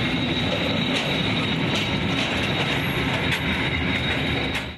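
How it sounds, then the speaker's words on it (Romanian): Freight train convoy of covered wagons loaded with military equipment rolling past on a railway line, a steady loud rumble of wheels with clicking rail joints and faint squeals throughout, close by, with no voices. "Un singur convoi avea 23 de vagoane încărcate cu peste 450 de tone de tehnică militară"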